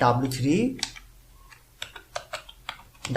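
Fingers tap a computer keyboard while PHP code is written, with a run of quick, close, uneven keystrokes following a brief moment of speech at the start.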